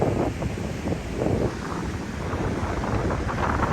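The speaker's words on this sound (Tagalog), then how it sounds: "Yan, malalaki po yung alon" Steady rushing surf of large ocean waves at Bagasbas Beach, mixed with heavy wind buffeting the microphone, with no voices.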